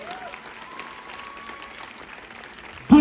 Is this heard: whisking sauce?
no